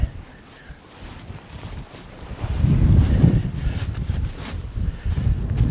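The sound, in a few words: strong Chinook wind blowing outdoors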